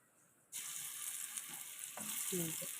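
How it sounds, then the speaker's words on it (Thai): Steady broadband sizzle of garlic frying in hot oil starts abruptly and continues, with a few light clinks of a utensil near the end. "ตำกระเทียมเจียวกระเทียมเลยจ้า"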